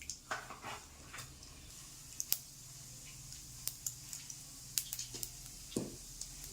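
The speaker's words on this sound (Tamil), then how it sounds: "கடுகு பொரிஞ்சிருச்சு" Mustard seeds and cumin spluttering in hot oil in a pan on a stove give scattered, sharp little pops and crackles, quiet and irregular over a soft background.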